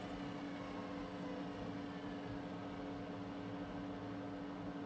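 A washing machine runs in Project Zomboid, a steady low mechanical hum with a constant tonal drone holding evenly throughout, with no voices.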